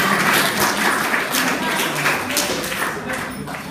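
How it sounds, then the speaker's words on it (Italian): An audience at Mago René's magic show applauds for Mario Pizzano, a brief, dense burst of clapping from a nearby crowd that stays fairly steady and fades slightly at the end. "ancora non ti ho chiesto un applauso per Mario Pizzano"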